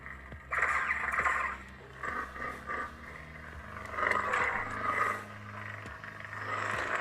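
A Kylo Ren sound font plays on a Kirak Infila Proffie Neopixel lightsaber as it ignites, giving a rough, crackling, roaring hum that swells and surges unevenly at moderate volume for several seconds.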